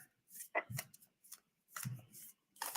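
A deck of tarot cards is shuffled close by in several short riffling bursts separated by brief pauses, the soft flutter and snap of the cards sounding crisp and quiet.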